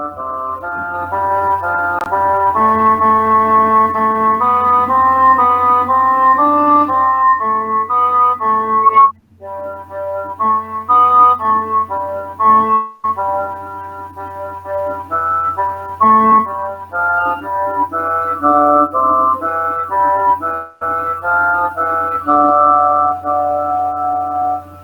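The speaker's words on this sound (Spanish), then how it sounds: "tenemos la antífona Ecce nomen Domini" The Gregorian chant antiphon Ecce nomen Domini, in a 1960 chant edition, unfolds as a single flowing melodic line over a low sustained drone, steady and unaccompanied by speech.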